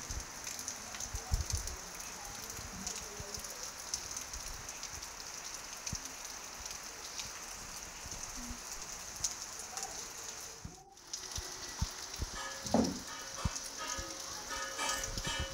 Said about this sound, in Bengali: আমাদের এদিকে দুদিন থেকে বৃষ্টি হচ্ছে।